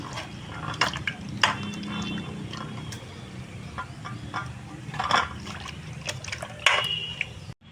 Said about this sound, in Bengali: গরম জলে ভালো করে ধুয়ে নেবো পরিষ্কার করে প্রথমেই পানটাকে